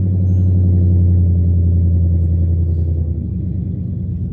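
A brother's car rumbles loudly as he pulls away, a deep steady low engine drone with harmonic layers that holds strong and eases slightly toward the end, with no talk over it.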